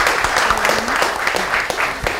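Applause for the RBI team at a national banking quiz final, a steady burst of clapping from the audience filling the whole moment without pause.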